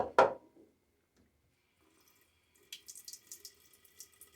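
Tap water splashes onto a shaving brush in one short close burst, then after a quiet pause it trickles and dribbles unevenly for the last couple of seconds.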